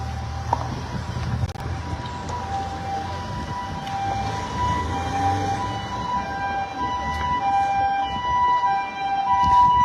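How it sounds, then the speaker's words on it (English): Ambulance siren wailing through a street protest in Nairobi, a loud continuous rising and falling tone over a dense crowd and traffic rumble, growing slightly stronger toward the end. "There's an ambulance"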